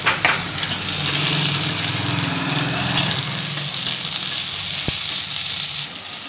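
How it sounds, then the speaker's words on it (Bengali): Onions fry in a pan, a steady close hiss and crackle as tomatoes and capsicum are added, with a few clinks of the spoon and no talking. "পেঁয়াজটা অল্প একটু ভাজা ভাজা করে নিয়েছি। এরপর আমি দিয়ে দিচ্ছি টমেটো আর ক্যাপসিকাম।"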